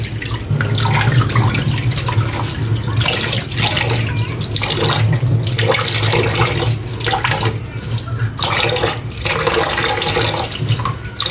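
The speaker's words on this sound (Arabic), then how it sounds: "شايفه كل ما تغسليها الميه بتاعتها بتعمل ازاي" Molokhia leaves washed by hand in a kitchen sink under a steady stream of running tap water, a continuous splashing flow that stays loud and close with no talk over it.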